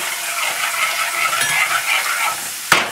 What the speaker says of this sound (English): We're going to give this a mix.